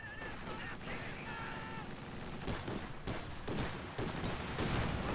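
An AA half-track fires repeated bursts in a WWII real-time strategy game, rapid automatic gunfire crackling over battle noise and overlapping with commentators talking.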